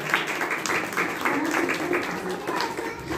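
An audience claps together at an indoor celebration for the International Day of Persons with Disabilities, a steady, moderately loud patter of many hands lasting a few seconds.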